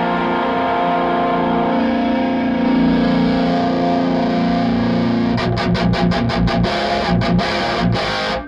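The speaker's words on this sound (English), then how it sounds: "You can hear that awful phasey tone" Electric guitar through a phaser effect on a TwoNotes Torpedo Live plays a sustained, swirling distorted tone, then breaks into a run of sharp rhythmic chops before cutting off, with no talking.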